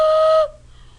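A handmade clay whistle blown once, giving a bright, steady pure tone with a clear harmonic that holds for about half a second and then stops abruptly, leaving near silence.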